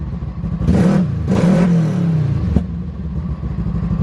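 A Kawasaki KRX side-by-side with a full exhaust and tune revs hard, two loud close throttle blips rising and falling over a rumbling idle, then settling back to a steady burbling idle.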